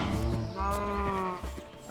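Sheep in a video game give a clear, nasal bleat that wavers and is held for over a second, followed by a softer repeat, close and alone.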